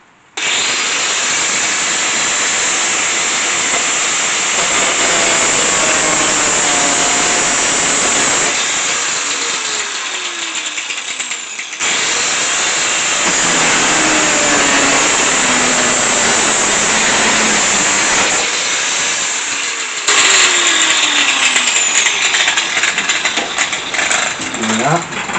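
An angle grinder cutting through a car body in long, loud, continuous stretches with brief pauses between cuts and a shifting, whining pitch as the disc bites into the metal.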